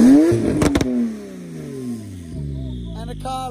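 A 750hp Porsche Turbo S engine revs hard up close, a rising then falling roar that cuts out suddenly and is followed by quieter idling and a brief rev near the end.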